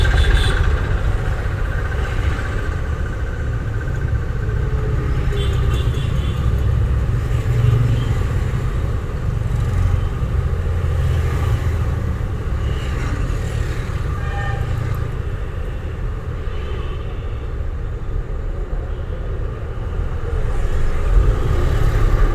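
Driving-school car engine idling in neutral, a steady low rumble with faint road noise that persists unbroken for over twenty seconds, no voices.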